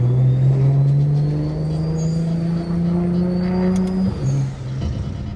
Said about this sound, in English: I'm hearing all the cars.